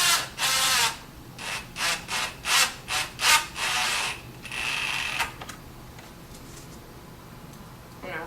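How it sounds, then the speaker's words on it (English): A power drill drives screws into the pre-drilled face frame of a JSI Cabinetry Designer square corner wall cabinet, in a series of short whirring bursts followed by a longer steady run, close and alone. "We're going to take our screws and drive them in"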